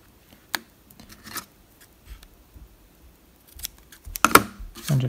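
Scissors snip crochet yarn on a handmade amigurumi baby octopus, giving a few sharp, close cuts separated by quiet pauses, with a denser cluster of rustling snips near the end.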